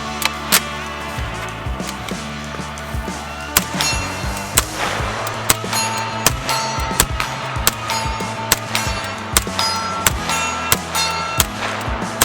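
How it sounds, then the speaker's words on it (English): Gold-plated Auto Ordnance Thompson 1927A-1 deluxe carbine firing on full auto, steady rapid gunfire with sharp repeated cracks running through the whole stretch, loud and close. "Still going. Whew. 13-pound gun, running gun."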